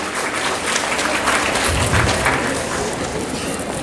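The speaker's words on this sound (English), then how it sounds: "A huge round of applause for Babita Kumar." An audience at a school awards ceremony applauds a student, a thick steady wash of many hands clapping at full loudness from start to finish.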